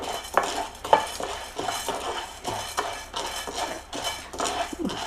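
A spoonful each of urad dal and chana dal roasts in a pan as a spoon stirs it, giving repeated metallic scrapes and light clinks in an uneven rhythm over a faint sizzle, with no voices.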